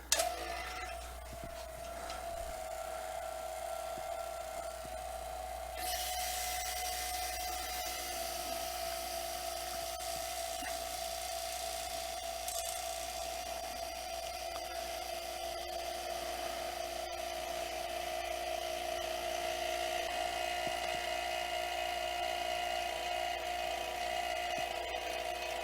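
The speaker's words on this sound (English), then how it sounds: "turn on the pump, close the valve" A vacuum pump runs on a vacuum chamber used for freeze-dried food, giving a faint, steady whine and hum that holds unbroken for the whole stretch, with no talking.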